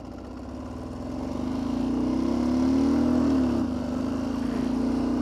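A diesel-powered KLR motorcycle lugs up a small hill, its low engine drone swelling louder and rising slightly in pitch as it pulls, then easing back near the end.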